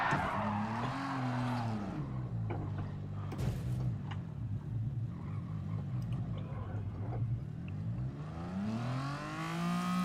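A racing car in a racing game slides through a gravel trap, its engine droning loud and steady with pitch sweeping up and down as the tyres scrabble for grip throughout.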